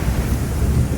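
Steady, roaring wind gusts buffet the microphone over open water near Galveston, a dense low rumble that stays constant and fills the whole moment with no voices.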